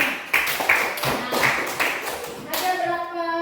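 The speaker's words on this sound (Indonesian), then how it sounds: "Tepuk tangan untuk semuanya." A group of people clap in a training-session setting, uneven bursts of hand claps at moderate volume over a few seconds, ending as a voice starts.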